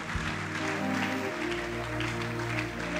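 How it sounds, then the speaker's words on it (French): A church congregation applauding to acclaim the Lord, steady, dense clapping over a sustained organ or keyboard chord, fairly loud and continuous throughout. "Est-ce que quelqu'un peut acclamer le Seigneur?"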